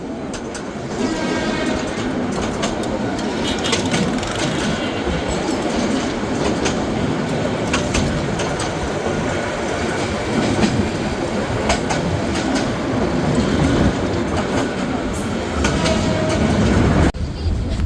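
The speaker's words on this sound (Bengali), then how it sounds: "সাগরিকা কমিউটার একটি কমিউটার ট্রেন যেটা কিনা চট্টগ্রাম চাঁদপুর চট্টগ্রামের মধ্যে চলাচল করে থাকে" The Sagarika commuter train on the Chandpur–Chattogram line runs steadily on its rails, a loud continuous rumble with rhythmic clicks of wheels over rail joints throughout.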